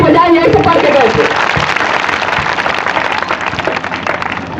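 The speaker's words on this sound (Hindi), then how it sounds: "जरूर ताली बजाएं" Students applauding at a school event at Kardahan School in Jaunpur, loud close clapping from a crowd that starts with a voice over it and then continues alone, gradually thinning.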